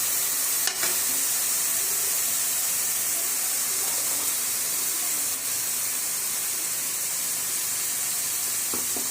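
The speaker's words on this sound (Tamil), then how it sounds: "இப்போ அரைச்சி வச்சுக்கிற தக்காளியை சேர்த்துட்டோம் சேர்த்து நல்லா கிளறி விட்டுக்கலாம்" Ground tomato hits onions frying in oil for a goat lung gravy, giving a loud, continuous hissing sizzle with a few sharp clicks of stirring, close up and without talk.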